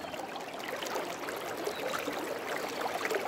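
A river swollen into flood after two days of rain rushes past in a steady, dense wash of flowing water that stays fairly close and even throughout, with no voices.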